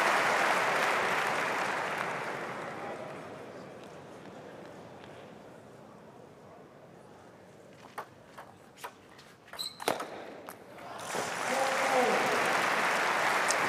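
An arena crowd at a table tennis semifinal of the 2011 German Open applauds loudly, fades to quiet with scattered clicks and ball taps, then breaks into applause again near the end.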